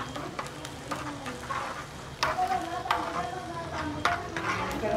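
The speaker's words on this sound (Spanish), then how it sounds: "Revuelve un poco para que se sofría un poco la cebolla." Onion fries in a pan with oil, sizzling steadily while a utensil stirs and scrapes through it, giving several sharp clinks against the pan over a continuous crackle.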